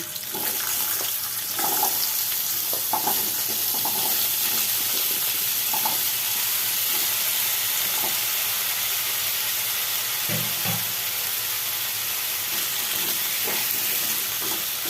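Pieces of potato sizzle in hot oil while a Bengali ol dalna (yam curry) is cooked, giving a steady, dense crackle and hiss that runs the whole time at close range with no talking.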